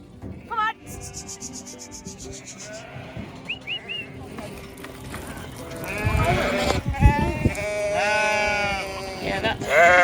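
Ewes bleat repeatedly as a flock is herded into a sheep shed, the calls growing louder and more crowded toward the end, with people talking and wooden rubbing or knocking noises in the background.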